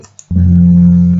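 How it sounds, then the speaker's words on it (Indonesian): Gong struck on a virtual Javanese gamelan app, a single loud low tone sustaining steadily after a short quiet lead-in. "ini pasti suara gong"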